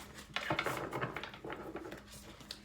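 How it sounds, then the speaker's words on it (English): A deck of tarot cards is shuffled by hand at close range, giving quick papery riffles and flicks in irregular bursts with short pauses between them. Nobody speaks. "Going to give a little shuffle here."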